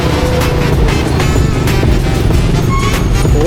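Busy street traffic thick with jeepneys in Quiapo, Manila: a continuous loud rumble of idling and passing engines, close by, with occasional honks and clatter rising over the din.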